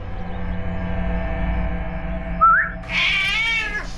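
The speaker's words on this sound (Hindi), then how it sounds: "ये है वो बिल्ली" A cat gives a short rising meow, then a longer, louder drawn-out one, up close over a steady low background hum.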